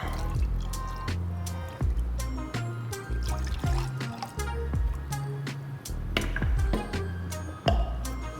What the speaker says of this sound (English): Now we're gonna use some of the broth just to get the rest of this out.